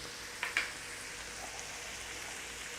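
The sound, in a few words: onions, garlic and thyme sautéing in butter in a pan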